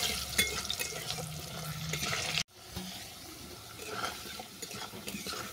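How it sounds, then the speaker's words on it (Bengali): Potato pieces with salt and turmeric sizzle and hiss in hot oil while being stirred, a dense steady frying noise with brief scraping, broken by a short cut midway. "আলুটাকে নেড়ে চেড়ে বাদামি করে ভেজে নেব।"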